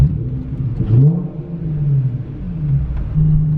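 A Nissan 350Z engine heard from inside the cabin, a deep rumbling idle swelling into a few brief revs and settling back again, with no talking.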